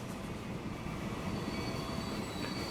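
A train runs steadily in the video game Transport Fever 2, a continuous, fairly quiet rumbling rail drone with a faint high whine and no voices over it.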